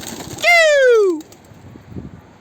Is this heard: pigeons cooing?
yes